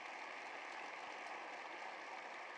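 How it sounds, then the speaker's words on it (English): Faint, even applause from an audience at a university convocation, a steady distant patter of many hands with no voices over it. "I want to give them a round of applause because so many people make this work."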